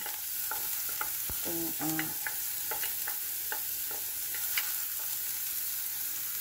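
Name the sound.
sautéing garlic and onions in a pan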